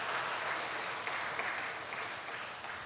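Steady applause from a church congregation for a children's choir, a continuous wash of clapping that holds at an even level throughout.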